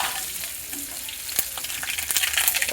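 Black mustard seeds hitting hot oil with chilies while cooking a sour crab dish give a steady, close hiss of frying, broken by sharp crackles and pops that grow busier toward the end. No talking.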